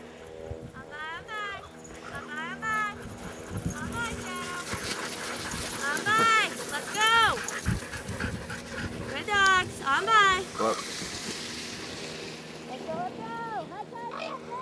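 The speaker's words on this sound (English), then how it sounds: "we're watching some dog mushers" Sled dogs belonging to mushers at an outdoor 50k trail race pant, yip and whine in rising and falling cries, with a busy crowd of voices and movement around them.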